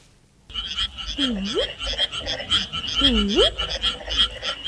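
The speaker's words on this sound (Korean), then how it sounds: "아하, 개구리 소리예요." Frog croaking in two clear rising calls over a steady chorus of higher-pitched chirps, with constant low rumble underneath; no voices.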